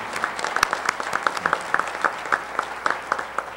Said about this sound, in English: we all owe a big round of applause to Ron